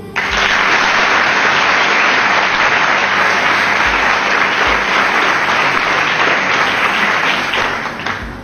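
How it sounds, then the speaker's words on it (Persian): A large audience at a public talk bursts into sustained, dense applause that holds loud and steady for about eight seconds before easing slightly at the end. "حالا یک تشویق جانانه همه خودتون."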